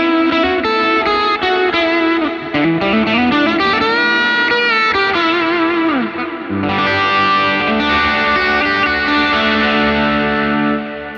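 Electric guitar runs through a Line 6 Helix reverb set with pre-delay on firmware 3.15, a continuous loud, effected melodic line with gliding notes and a lush ambient tail trailing behind the picking.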